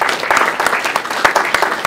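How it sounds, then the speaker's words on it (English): A conference audience at a Central Australia tourism event breaks into applause, a dense wash of claps at moderate loudness with some voices mixed in, lasting under two seconds. "Give yourselves a round of applause"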